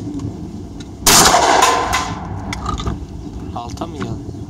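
A single loud blast from an Armsan Paragon shotgun, a sharp crack that decays over about a second, with voices speaking before and after.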